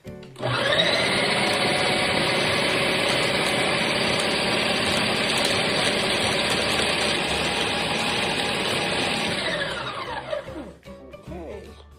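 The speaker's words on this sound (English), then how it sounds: "it's mixing at the same time, but primarily the purpose is to grind up those chocolate chips" An electric mixer grinding chocolate chips into hot cocoa mix, a loud steady whirring motor hum running nearly continuously for about ten seconds before winding down with a few rattling clicks.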